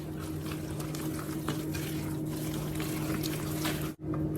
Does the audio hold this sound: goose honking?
no